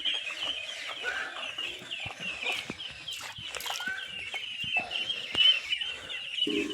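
Twenty-five-day-old ducks on a small farm give a continuous chorus of peeping and quacking calls, close and moderately loud, with scattered sharp clicks and knocks.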